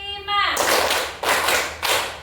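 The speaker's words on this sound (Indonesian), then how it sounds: "Tepuk 1, tepuk 2, tepuk 3, tepuk 4, tepuk 5." Three loud, sharp group claps by children in a steady rhythm, coming right after a brief voice, each burst ringing out close and full.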